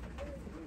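Pigeons giving a soft, faint, brief coo in a quiet loft.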